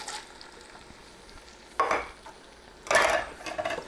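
Spoon stirring diced tomatoes with their juice into taco soup in a pot, two short wet scraping swirls with a faint sizzle under them, close and alone.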